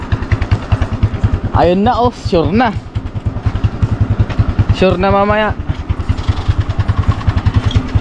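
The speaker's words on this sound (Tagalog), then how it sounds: "Ngayon guys, ay paayos na po natin yung ating motor." A motorcycle tricycle engine idles close by with a steady, rapid low putter throughout, while people talk over it.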